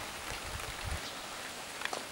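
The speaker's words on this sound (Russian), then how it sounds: "дождь пошел" Soft, steady rain falling, a continuous hiss with a few scattered drops tapping nearby.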